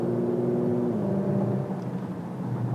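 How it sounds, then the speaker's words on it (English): A 2023 Porsche Macan GTS with its sport exhaust open accelerates, giving a steady mid-pitched engine drone whose tone shifts and drops as it pulls, loud and close with no talking. "The acceleration does kick up quite a bit."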